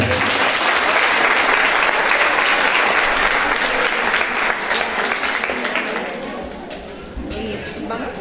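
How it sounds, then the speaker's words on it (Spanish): Loud, dense applause from an audience at a Women's Day celebration in Sutatausa, sustained throughout and tapering slightly toward the end. "Un aplauso fuerte para ella."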